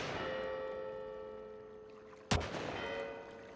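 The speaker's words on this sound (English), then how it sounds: "if I shoot these bells in the right order" A church bell in the Hitman: World of Assassination video game, set in Sapienza, rings out with a sharp clang as it is shot with a sniper rifle, its tone sustaining and fading over a quiet background hum.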